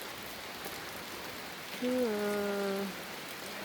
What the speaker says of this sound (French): là on a un orage, il pleut